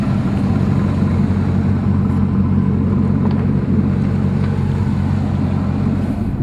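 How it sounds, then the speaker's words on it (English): A 2002 Corvette Z06 fitted with twin GT32 turbochargers drives along, its engine a steady, loud low rumble from inside the car, with no talk. "We're going to go for a ride in one of their twin turbo Corvettes."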